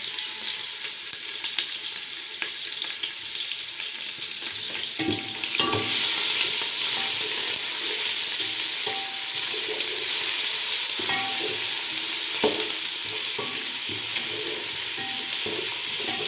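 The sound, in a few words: meat frying with garlic ginger paste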